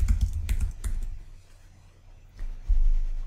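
Keys tap on a Mac keyboard as a password is entered, a quick cluster of close clicks followed by a quieter lull and a couple more presses, with no speech.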